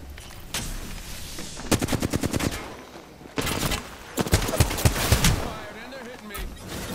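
Gunfire in the Apex Legends video game rings out in rapid bursts of close, loud shots, with a quick rhythmic volley followed by another dense string of shots and scattered cracks.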